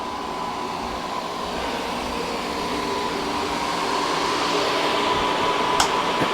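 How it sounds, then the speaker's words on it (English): A dehumidifier runs steadily in a carpeted basement, a constant droning whir with a broad airy hiss, close and fairly loud, and one brief click near the end. "This is actually a dehumidifier to get any water in the air out of here."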